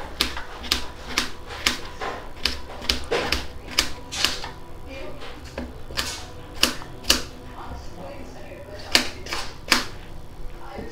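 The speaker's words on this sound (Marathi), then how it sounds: "एक बटाटा चिरून घेत आहे." A potato being chopped with a knife on a board, sharp, crisp taps repeating in an uneven rhythm with short pauses, close and clear against a low background hum.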